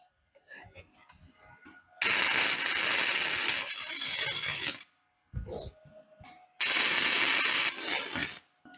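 Welding a homemade steel log holder for firewood prep, two long sustained bursts of loud crackling, hissing arc noise separated by short pauses with clanks and handling sounds in between.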